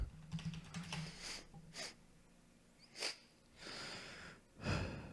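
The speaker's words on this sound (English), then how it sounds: "let me just type this in again" Quiet bursts of typing on a computer keyboard, clustered keystrokes coming in short rapid runs separated by pauses, with no voices.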